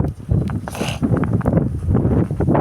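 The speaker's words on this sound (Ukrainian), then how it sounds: "Бачите, який вітер зривається" Strong wind blows outdoors in a garden, a steady loud roar and buffeting against the microphone with gusty surges throughout.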